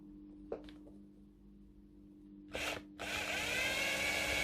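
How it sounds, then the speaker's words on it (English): A few faint knocks, then a brief burst of an electric drill followed by a sustained whirring drill run through a paper fan, close and fairly loud. "I'm just going to drill a hole in the middle of that fan"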